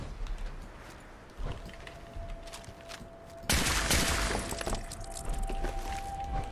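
Radium rifle fire in Fallout 4, a sudden loud burst of shots that stays dense and noisy against a steady tonal hum, with no talking.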